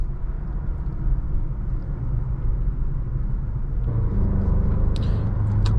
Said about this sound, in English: as soon as you tap it, this car takes off